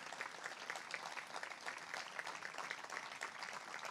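A crowd claps continuously, a steady wash of applause heard from some distance and at modest volume, with no one speaking over it.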